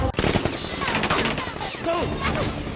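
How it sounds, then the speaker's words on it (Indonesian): Mercenaries open fire on a base in an action film, with rapid, dense gunfire bursts crackling loudly and almost continuously, mixed with film soundtrack and voices. "Lalu tentara bayaran pun menembak markas untuk membunuh Feng dan Chris"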